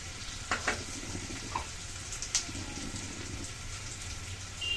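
Ground cumin paste hitting hot oil in a pan while cooking tilapia with potato and tomato, giving a soft steady sizzle with scattered crackles and pops, close and fairly quiet.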